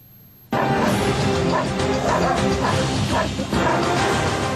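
Stray dogs on a street in Kanpur, barking and yelping in a loud, dense chorus that bursts in after a quiet moment and carries on with overlapping calls and a harsh crash-like clatter.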